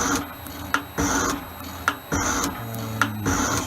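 An Elliot 10M metal shaper takes a deeper cut at its lowest speed with a much slower feed, giving rhythmic strokes about once a second. Each stroke brings a sharp click over a steady, close mechanical rasp and hum.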